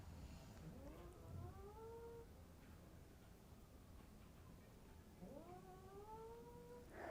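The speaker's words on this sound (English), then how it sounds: "my cat is snoring and making noises in her sleep" A sleeping cat lets out soft, rising, whiny vocal murmurs, one drawn-out pair near the start and another near the end, close and fairly faint over a low, steady background hiss.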